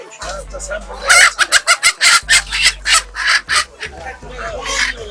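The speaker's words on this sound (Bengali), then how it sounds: "দেশি গুড়া দশেক মুরগি দাও তো আমার" Desi chickens at a poultry seller's stall give a rapid, loud run of clucks and squawks, close by, with a busy background throughout.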